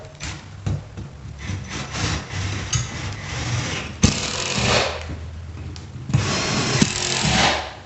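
Screws being driven to attach a ceiling fan bracket to a Rayco electrical box using the 10/32 holes, with uneven scraping, rubbing and grinding bursts rising and falling, close and loud with no talk.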